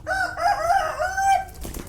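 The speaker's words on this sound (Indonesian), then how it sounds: "Ntar malah ada ayam yang berantem ini" A single close rooster crow rises and wavers for about a second and a half, followed by a brief rustle.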